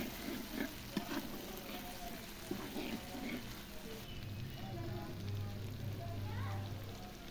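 Onions and masala frying in oil in a pan for a mungra vegetable curry, a steady close sizzle with stirring scrapes and occasional clinks, continuous throughout.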